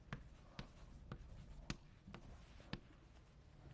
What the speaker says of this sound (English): I'm going to write this as just b1,